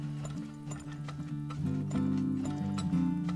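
Horses in the oil-drilling video game Turmoil clop along in a steady, fairly loud rhythm of hoofbeats, with sustained tonal sounds running underneath.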